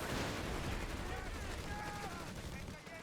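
Dense gunfire from a Company of Heroes 3 battle, with US bazookas, a jeep and BAR rifles fighting German assault grenadiers; loud, continuous crackle of shots throughout, with faint background talk.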